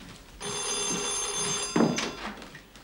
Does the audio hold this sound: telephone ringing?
yes